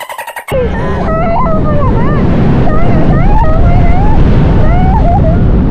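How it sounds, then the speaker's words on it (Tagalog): Strong wind roars and buffets the microphone continuously, a loud rushing drone with faint higher whines threaded through it. "Lakas ng hangin."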